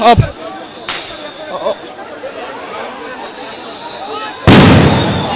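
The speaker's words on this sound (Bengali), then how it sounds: "একের পর এক সাউন্ড গ্রেনেড নিক্ষেপ হচ্ছে এই মুহূর্তে ধানমন্ডি 32-এ" Sound grenades go off one after another at Dhanmondi 32, a sharp loud blast at the start and another near the end, with crowd chatter and a reporter's voice filling the space between.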